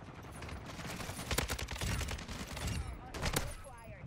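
RPK machine gun fire in Call of Duty Warzone, heard as dense rapid bursts with two sharper volleys standing out over busy, continuous game noise.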